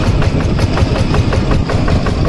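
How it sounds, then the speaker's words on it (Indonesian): Kubota 8 HP engine driving a tracked rice combine harvester, a loud, close, steady mechanical chug with rapid rhythmic pulses and no voices. "Jadi ini menggunakan mesin Kubota 8 PK"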